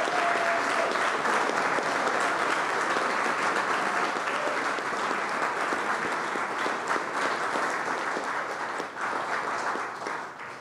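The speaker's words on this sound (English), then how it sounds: "we should give him a round of applause" Sustained applause from an audience at a democracy summit panel on ranked choice voting, a dense steady wash of clapping that holds for about ten seconds before tapering slightly at the end.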